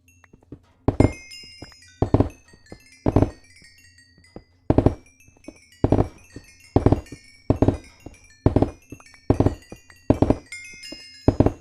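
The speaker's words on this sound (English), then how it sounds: "It sounds like fireworks." Fireworks exploding in the Minecraft Vault Hunters modpack: about a dozen loud, sharp bursts at roughly one-second intervals, each trailing a faint chiming crackle.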